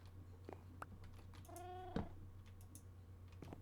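A Minecraft cat gives one short, faint meow in the middle, set against a low steady hum and scattered soft clicks like keyboard typing.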